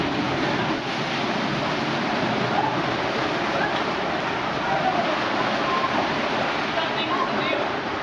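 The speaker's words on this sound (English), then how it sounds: "the high tide coming in through the cave" High tide waves surge through a sea cave at the beach, a loud, continuous roaring wash of water close by with no breaks.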